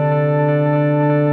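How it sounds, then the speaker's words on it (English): A long sustained synth pad from a Eurorack modular setup holds steady without any sidechain pumping, a loud, smooth, unbroken chord with no gaps. "So we've got a long sustained pad,"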